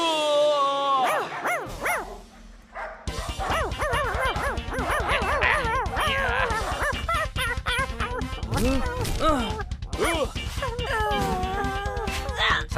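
Cartoon dog barking and yipping, rapid repeated barks mixed with animated character voices and bright music throughout.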